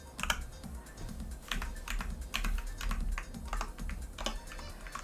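Fingers type on a computer keyboard in quick irregular bursts of crisp clicks and clacks, close and fairly quiet, with short pauses between runs and no talk.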